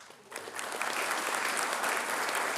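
Crowd applause at a university graduation ceremony in Hobart, starting softer then swelling into sustained, dense clapping that fills the hall without letting up.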